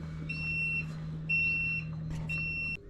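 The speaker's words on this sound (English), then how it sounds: "I got alarms going off all over the place." Repeated electronic timer alarm beeps in a home-brewing session for a hazy pale ale, three sustained tones at steady intervals over a low continuous hum, fairly quiet and close, with no talking.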